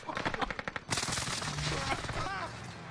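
Rapid bursts of video game gunfire crackle through a shooter tournament match, starting as spaced shots and then swelling into dense, sustained firing with faint voices underneath.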